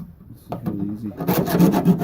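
A hacksaw cuts at the sliding door handle of a Mercury Villager / Nissan Quest van, making close, uneven rasping strokes that build in loudness over a couple of seconds.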